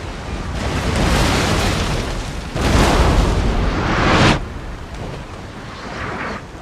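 Broadside cannon fire from sailing warships in a Napoleon Total War multiplayer sea battle, heard as continuous rumbling booms and bursts in two loud waves, then a quieter tail of distant fire.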